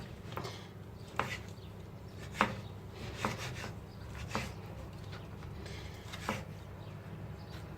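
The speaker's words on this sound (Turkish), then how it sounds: "Şimdi domateslerimizi doğrayacağız." A knife chops tomatoes against a cutting board in sharp, separate strikes, about eight cuts at an irregular, unhurried pace, close and fairly quiet.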